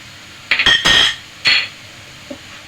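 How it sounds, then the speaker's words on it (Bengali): A spoon stirs dough in a cooking pot with cinnamon powder and crushed nuts, producing a few sharp metallic clinks and scrapes in a quick cluster, then one more and a faint tap, close and alone. "এবার নেড়ে চেড়ে আমি এটাকে নামিয়ে নেব"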